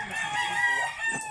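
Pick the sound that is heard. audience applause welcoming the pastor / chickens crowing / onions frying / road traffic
chickens crowing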